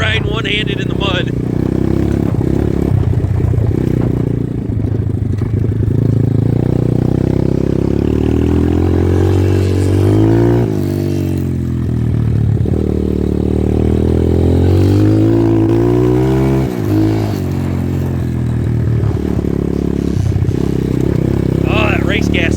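A Kawasaki KX250 two-stroke dirt bike running on race gas burbles and revs close by, its engine pitch rising and falling throughout while a person talks over it.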